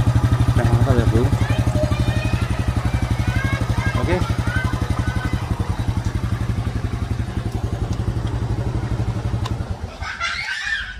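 A motorcycle engine fitted with new original piston and valve stem seals revs hard in a rapid, loud, pulsing rhythm for about nine seconds, then cuts out abruptly near the end.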